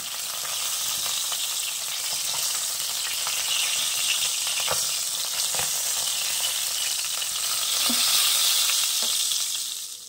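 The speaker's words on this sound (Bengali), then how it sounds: "এই তেলেই আমি উচ্ছেটাকে ভেজে নেব।" Bitter gourd fries in oil left over from frying fish, a bright, continuous sizzle close by with a few soft taps of stirring over the crackle.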